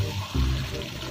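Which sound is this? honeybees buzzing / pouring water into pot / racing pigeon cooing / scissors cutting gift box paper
pouring water into pot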